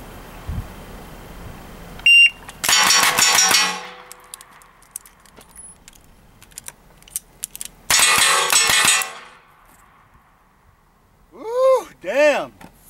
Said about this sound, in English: draw this gun from surrender, put 6 shots on the plate, do the reload sequence I showed you earlier, and put 6 more out